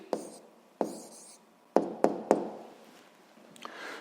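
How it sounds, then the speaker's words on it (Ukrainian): A pen writing down an answer on paper, with sharp taps and short scratchy strokes in an irregular rhythm, close and quiet against a soft background. "Пишемо відповідь"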